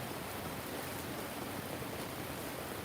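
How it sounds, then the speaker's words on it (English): Rain falling steadily at an outdoor graveside service, a soft, even hiss with no breaks and no voices. "And here in the rain together"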